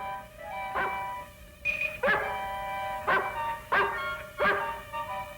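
Dog in an old black-and-white horror film barks in five sharp, evenly spaced yelps at moderate distance over a faint room-tone hiss, with no talk.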